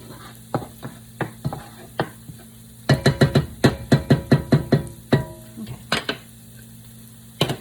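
Onions and garlic fry in a pan for spaghetti sauce while a utensil stirs them, making sharp scraping clicks and taps. The taps come in an irregular rhythm, then a quick run of them, over a soft background sizzle.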